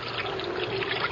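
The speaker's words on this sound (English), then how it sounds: "There was someone in the water swimming towards us." Water splashes and sloshes steadily as someone swims, a continuous close-up watery churn made as a sound effect for a CBS Radio Mystery Theatre drama, with no talk over it.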